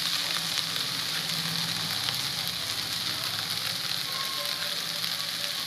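Amaranth leaves and potato fry in an uncovered pan, producing a loud, continuous close-up sizzle with crackling texture throughout and no talking.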